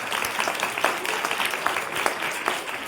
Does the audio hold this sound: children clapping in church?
yes